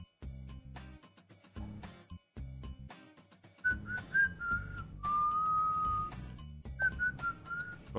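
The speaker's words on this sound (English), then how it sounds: "Oh, I'm sorry, I probably shouldn't whistle." A person whistles a short tune close by, clear melodic notes including one long held tone, over soft intermittent clicking and tapping in the background.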